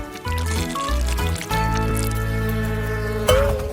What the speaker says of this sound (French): Je verse le tout.